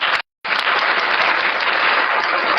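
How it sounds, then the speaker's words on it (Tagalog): Loud, dense applause from a church congregation, a steady wash of many hands clapping that cuts out for a brief moment, then resumes and carries on strongly to the end. "yung pinakamalakas na palakpak na may kasamang sigaw"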